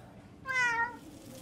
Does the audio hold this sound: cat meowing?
yes